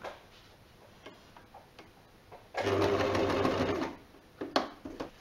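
A sewing machine back-stitches the edge of a fabric parasol cover, running in one short, fast mechanical burst of about a second and a half between quieter ticks and handling clicks.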